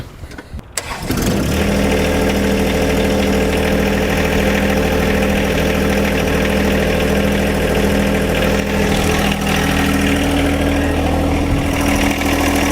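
A tractor engine catches and settles into a steady, loud idle in neutral with nobody on the seat, its deep low hum and droning harmonics holding constant and close with no talk over it.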